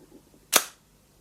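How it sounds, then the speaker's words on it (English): A single sharp, slappy, rubbery shutter snap from a FED 4 Soviet rangefinder camera, close and crisp, with a short decay and otherwise near silence. "it makes that usual sound of the slappy, snappy, rubbery shutter"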